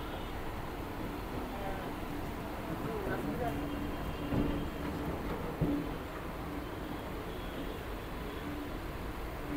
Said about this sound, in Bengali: বন্ধুরা, এই হচ্ছে আমাদের নৈহাটি ব্যান্ডেল লোকাল।